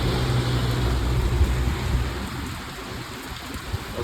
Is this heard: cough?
no